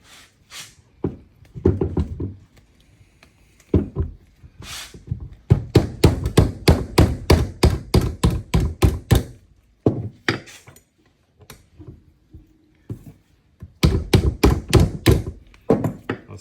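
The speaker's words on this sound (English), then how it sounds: "gently use a rubber mallet to try and coax it to undo" A rubber mallet taps the top cap of a Suntour XCM32 suspension fork, producing dull, close thunks in bursts of rapid repeated strikes separated by short pauses.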